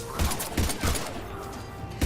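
Rapid bursts of turret gunfire crackle in short repeated volleys during a Mass Effect 3 firefight, loud and close for about two seconds.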